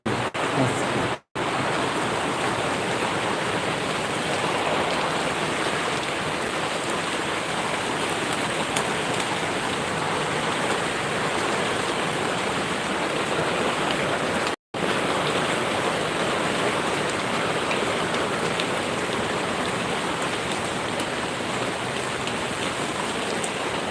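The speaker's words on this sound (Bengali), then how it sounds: "দেখেন বৃষ্টি কীভাবে হচ্ছে" Heavy rain pours down outdoors by a club where a motorbike is parked, a dense, even roar of drops hammering surfaces that runs unbroken except for two split-second dropouts.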